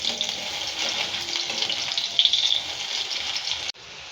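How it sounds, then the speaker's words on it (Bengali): Potatoes fry in hot oil with a steady, close hissing sizzle that holds evenly before cutting off abruptly near the end. "এবারে আলুগুলো ভেজে নিচ্ছি। আলুগুলো একটু ভেজে নিচ্ছি।"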